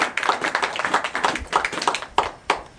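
A congregation in a church applauds for God, a steady run of hand claps at moderate loudness with a few sharper claps near the end and no talking.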